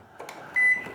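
A microwave oven that runs but does not heat is switched on straight from 220 V mains with no series bulb: a couple of soft clunks, then a steady electric hum starts halfway through and holds briefly.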